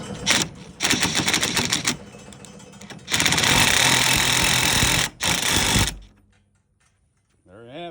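Impact wrench driving a socket on a trailer tongue jack after a weld repair, giving loud rapid hammering bursts in several runs, up close and separated by short pauses, then fading to quiet at the end.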